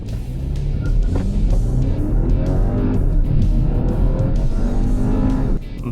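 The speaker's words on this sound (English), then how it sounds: "So let's quickly launch this car manually." Mini Cooper S with a 2-litre turbo petrol engine launched hard from a standstill, a loud engine note climbing in pitch through the revs, with a brief shift dip, heard from inside the cabin.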